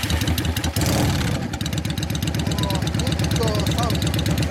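A customized 2002 Yamaha DragStar 400 motorcycle engine idles close by with a steady, throbbing rumble and a rapid mechanical clatter, loud and continuous throughout.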